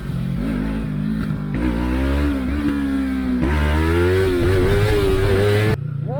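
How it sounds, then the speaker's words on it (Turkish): A motorcycle ridden toward Mudanya revs up in stages as the rider throttles up for a wheelie, engine pitch climbing loud and close across several pulls before cutting off abruptly. "Şimdi gaz da alacağım ben tekere."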